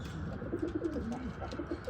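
Pigeons coo softly inside a loft, a few low, rolling calls repeating at a quiet distance over faint background hum.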